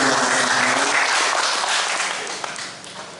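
Audience applause at a Golkar Party gathering in Jayapura, Papua, a dense sustained clapping from a crowd that stays steady and gradually fades toward the end.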